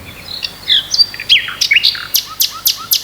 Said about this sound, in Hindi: छोटी छोटी चिड़ियों की आवाज